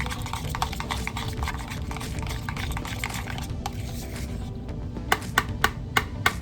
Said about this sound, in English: I'm just gonna stir all this up together